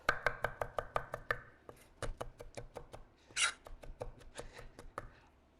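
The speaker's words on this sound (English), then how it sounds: "here comes the chopping." A knife chops fresh parsley on a cutting board in a steady run of sharp, evenly spaced taps, close and fairly quiet, with a brief scraping swipe midway and no talk.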